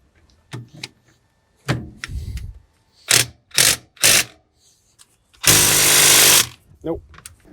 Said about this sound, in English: I don't think this is going to work with an impact.